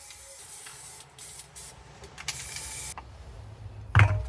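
An aerosol can sprays satin black paint onto a BMW R45 motorcycle stand in short hissing bursts of varying length, ending with a louder clunk.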